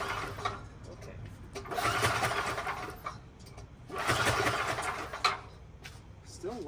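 Someone repeatedly pull-starts a generator engine that has spark but will not fire. Two long rasping recoil-pull bursts are heard, each a couple of seconds, with a brief voice at the end.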